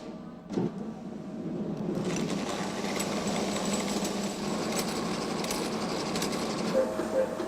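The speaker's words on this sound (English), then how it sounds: "The preparation also requires a skilled hand to fill the bobbins, which consist of 100 meters of yarn on each winding." A machine winds yarn onto bobbins for Leavers lace, 100 meters per bobbin, giving a steady whirring mechanical drone that starts after a brief knock and runs continuously, close and moderately loud.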